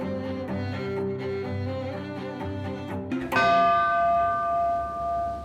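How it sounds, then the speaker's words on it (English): A bell on the Baltic Exchange trading floor, the bell that opens trading, rings in a steady run of strikes, then one louder clang leaves a long, bright ringing tone that slowly fades. "That's the sound of the Ceres bell"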